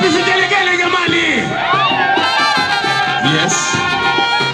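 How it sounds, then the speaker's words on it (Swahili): Wedding guests at a traditional wedding ululate in loud, high, wavering trills that rise and overlap close by, with shouts and crowd voices mixed in. "Wapi vigelegele jamani?"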